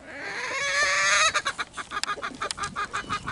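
A hen lets out a drawn-out, squawking call, then breaks into a quick series of agitated clucks, close and loud.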